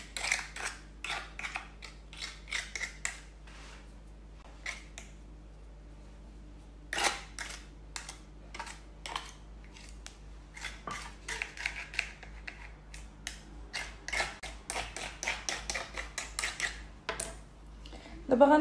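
A knife trims the excess dough from the rim of a tart shell for an orange or strawberry tart, making quick irregular scraping clicks and light metallic taps against the tin over a faint steady hum.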